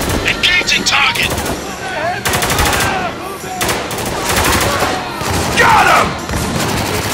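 Rapid automatic gunfire from a Spec Ops: The Line firefight on the rooftops, bursts rattling steadily and loudly through the whole stretch, with shouted voices over the shooting.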